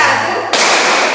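Children in a classroom clapping game burst into a loud, close round of hand claps halfway through, after a stretch of voices.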